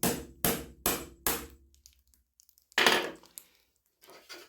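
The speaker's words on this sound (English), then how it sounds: "You want to place your chisel between the wood and the" Chisel prying a cherry burl and green epoxy serving board loose from its taped base: four sharp knocks in quick succession, then a pause, a louder crack, and faint scraping and tape peeling, close and with no talking.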